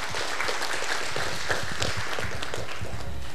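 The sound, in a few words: audience applause for the ensemble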